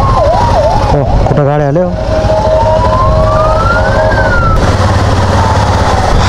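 An ambulance siren wails loudly in rising and falling sweeps on a landslide-blocked mountain road in Sindhupalchok, Nepal, over engine rumble while people talk nearby.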